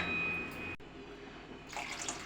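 Water pours steadily into a pan of half-cooked stuffed eggplant curry simmering in oil, a continuous close splashing stream lasting under two seconds, with no talking.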